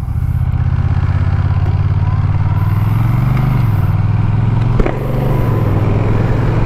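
2021 Honda Rebel 1100 DCT motorcycle ridden in sixth gear at around 30 mph, a loud steady low engine drone with a slight pitch rise and dip, plus rushing wind noise.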